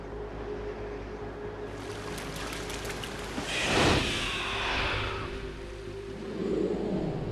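In Metal Gear Solid 2, a Harrier jet skims over water with a swelling, hissing roar over churning spray. The rush of water builds and surges in waves, with a faint row of high ticks early on.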